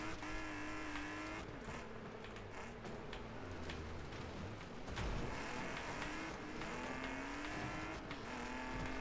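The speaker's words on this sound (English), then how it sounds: "I do actually like how the wrecked cars are still kind of like going around for a little bit" Wrecked, totaled cars keep crawling around a Wreckfest 2 race track, with steady engine drone, whining revs, tire scrub and scattered clunks of metal running continuously at a fairly even level.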